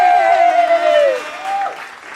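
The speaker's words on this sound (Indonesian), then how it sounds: "Tetangga pada sirik, akhirnya pada tepuk tangan juga." Audience applause during an Indonesian comedy sketch show, a dense, steady clatter of clapping that runs through the clip, with a loud gliding tonal sound riding over it for the first second or so.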